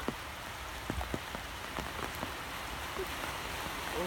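Heavy rain pelting an abandoned wild pond during a fishing trip, a steady broadband wash with occasional close drop impacts, heard on its own.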